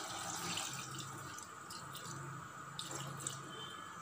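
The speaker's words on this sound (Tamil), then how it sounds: "தேவையான தண்ணி ஊற்றிக்கிறணும்." Water runs steadily into a pressure cooker holding cooked mutton for a Chettinad white kurma, a continuous close tap-like gush with no talking.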